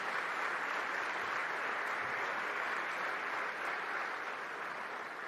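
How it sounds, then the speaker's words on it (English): A large crowd of staff at a Homeland Security gathering gives sustained applause, a dense, even wash of clapping that holds steady throughout without talking. "Let's give him a round of applause."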